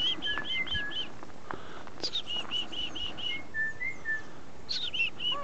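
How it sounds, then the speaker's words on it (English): Outdoors at Glenmore Park in Calgary, a nuthatch gives short, nasal, repeated call notes among other small bird chirps and whistles, fairly faint and at a moderate distance. "There's the nuthatch. I hear him. He does like, meh."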